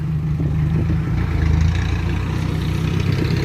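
A heavy truck engine idles steadily and loudly throughout, a low rumbling drone with some rattling clatter and no break.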